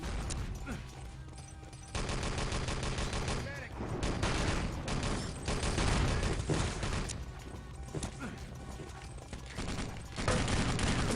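FG-42 rifle fire in a video game, loud and close, with dense bursts of automatic shots and bangs coming in waves across the whole stretch, with game effects in the background.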